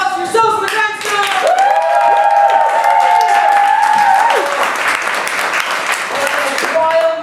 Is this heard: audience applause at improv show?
yes